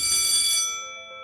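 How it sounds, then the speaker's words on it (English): A school bell gives one short, bright ring with shimmering metallic overtones that fade quickly over about a second. "bell rings"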